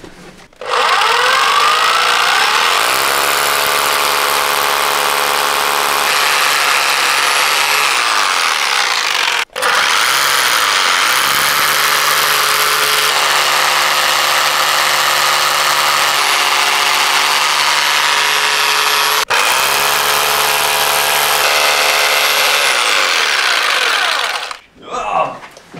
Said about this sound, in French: Et donc maintenant on perce.